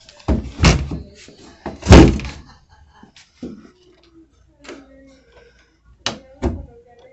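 A door fitted with a new bank-style lock is pushed shut several times, giving loud close thuds and latch clunks between quieter handling noises. Someone speaks briefly between the closings.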